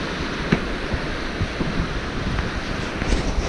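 Waves wash against a lakeshore on a cold day, making a steady, moderate rush with light thumps of water, and wind rumbles across the microphone.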